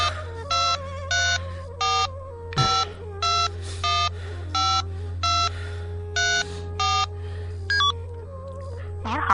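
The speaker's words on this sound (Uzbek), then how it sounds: "uning telefon nomerini bosdim" A phone number is keyed on a telephone: about ten evenly spaced dialing tones, each a short bright beep, play over a steady low hum, with a brief bump partway through.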